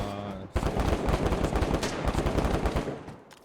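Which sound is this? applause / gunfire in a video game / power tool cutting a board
gunfire in a video game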